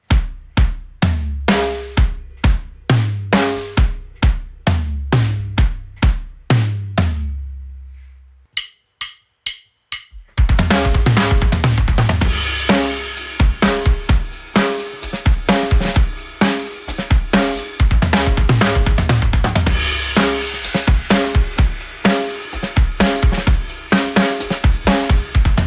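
Acoustic drum kit playing a slow fill across kick, snare, rack tom and floor tom, first as spaced single hits that decay, then after a brief pause a dense, loud full-kit pattern with cymbals.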